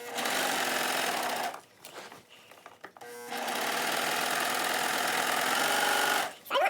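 An overlocker sewing machine finishes the frayed edges of fabric for a pair of pants. It runs with a fast, steady mechanical whir in two sustained stretches, separated by a brief pause with lighter handling noises.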